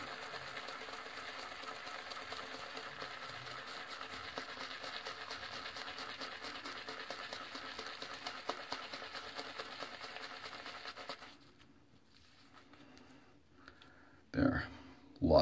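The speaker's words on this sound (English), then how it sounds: "I find this lathering this way with a shaving soap is best for me." A brush works up a lather from Rasozero Agrumella shaving soap, giving a steady, close, buzzing swish that runs continuously for about eleven seconds, then stops, followed by near silence and a couple of brief knocks.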